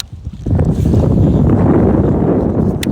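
Wind blasts over the microphone outdoors near kayaks, building quickly into a loud, steady low rumble that holds without a break.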